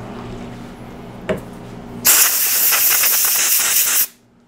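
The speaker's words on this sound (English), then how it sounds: "Get that with some compressed air." Compressed air blasts a gummy carburetor plate clean on a Shindaiwa LE262 edger, a loud, close, steady hiss lasting about two seconds before cutting off abruptly, with no talk over it.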